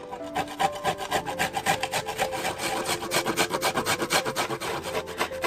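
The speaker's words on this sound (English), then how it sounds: "And then here I have a ginger, 1 piece of ginger, and then I'm just going to grate it." Fresh ginger rasped back and forth against a grater in fast, steady strokes, close and fairly loud for the whole stretch, with no talking.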